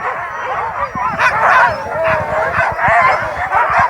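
Pack of sled dogs at the start of a race stage near Lanuéjols, yipping, barking and howling together in a dense excited chorus, loud and continuous.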